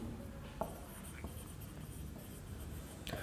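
Marker or chalk writing on a classroom board during a physics lesson on scalars and vectors, faint scratchy strokes with a few short taps and squeaks over a quiet room hum, no talking.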